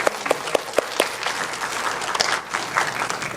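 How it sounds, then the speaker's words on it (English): An audience at a City of Toronto awards ceremony applauds the band after their pre-show set, a steady burst of clapping with a few louder close claps near the start. "Let's give them a round of applause."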